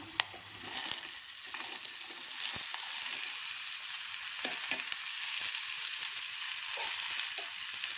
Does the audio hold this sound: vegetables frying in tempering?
yes